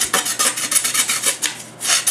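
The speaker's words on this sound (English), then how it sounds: "I'm gonna take my drill bit, I'm gonna start my hole through there" Drill bit boring a hole through a mounting plate during a security camera installation, a rapid rasping grind in short repeated bursts, close and fairly loud with no talking.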